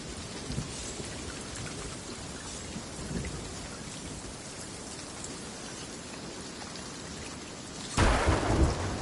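Steady heavy rain pours in the video game Sea of Thieves, with low thunder rumbling beneath it. A sudden loud lightning crack and boom hits near the end.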